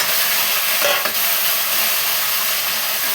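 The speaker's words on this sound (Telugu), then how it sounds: "ఉప్పు పోపు మాడిపోతుంది, దానికి దొండకాయలు వేసేద్దాం." Ivy gourd pieces tossed into a salted tempering of hot oil crackle and sizzle steadily, with a scrape of stirring near the start, loud and close with no talk.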